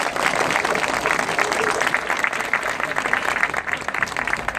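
An audience at the inauguration of the St Paul St Joseph school in Lestrem applauds the architect with sustained, full crowd clapping at an even level throughout.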